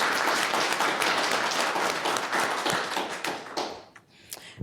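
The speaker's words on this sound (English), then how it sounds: "So maybe if we could just give them a round of applause in their absence." Audience applause at the closing of a two-day forum session, a dense, steady burst of many hands clapping that fades out toward the end, leaving a few scattered claps.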